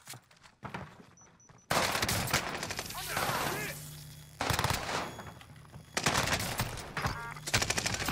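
Rapid automatic gunfire from a PPSh-41 in a Call of Duty match on Rebirth Island, loud bursts cutting in and out with quieter gaps, mixed with distant shots and game effects.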